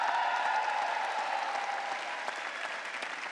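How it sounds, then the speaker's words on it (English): A large commencement crowd at a graduate school ceremony applauds the graduates, a steady dense wash of clapping that holds evenly and eases slightly toward the end, a few voices mixed in. "Give yourselves a round of applause"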